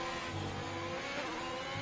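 An F1 race car in the F1 2021 video game revs its engine with a steady, loud, continuous whine that holds for under two seconds with no other sound.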